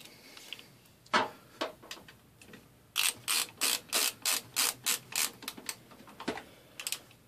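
Screws driven into a PC case during a lab computer build: a steady run of about a dozen close, evenly spaced ratcheting clicks, with a few scattered clicks before and after.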